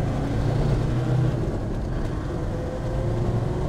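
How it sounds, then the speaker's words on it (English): A 1999 Land Rover Defender 110 with the TD5 diesel engine accelerates in second gear, a steady loud rumble and road roar from inside the cab with no talk. "All right, so I'll downshift to second gear and we'll accelerate."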